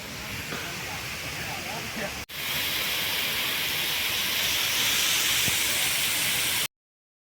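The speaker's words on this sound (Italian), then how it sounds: "non mi aspettavo di certo la finta cascata." An artificial waterfall in Dushanbe, Tajikistan, rushes as a loud, steady broadband hiss, cut by a sudden brief dropout near the middle before resuming just as strong, then stopping abruptly.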